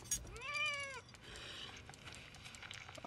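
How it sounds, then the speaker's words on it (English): A cat lets out one drawn-out, rising-and-falling meow near the start in the video game Dead Island 2, followed by quiet room noise and faint shuffling. "that wasn't a horse. That's a cat."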